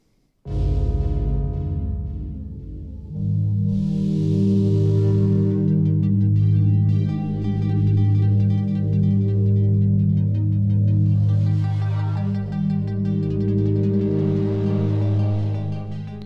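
A sustained synthesizer pad played from a Sensel Morph swells in after a moment and holds a warm, steady chord, with airy shimmer drifting in and out.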